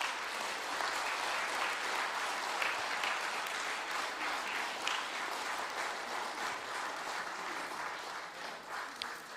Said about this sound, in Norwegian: en ordentlig applaus